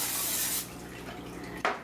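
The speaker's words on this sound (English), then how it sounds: "We're going to spray these guys up." Cooking spray hisses from a can onto onions laid out for sautéing for patty melts, a steady close spray for about half a second followed by quieter background and a brief clatter near the end.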